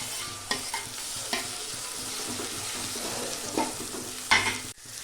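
Chopped tomatoes go into a pan of sautéed onion and garlic for home-style kootu, frying with a steady sizzle while a spoon stirs and clatters against the pan several times.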